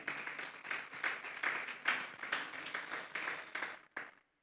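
A congregation in a church claps in faint, rhythmic bursts of applause that stop abruptly after a few seconds.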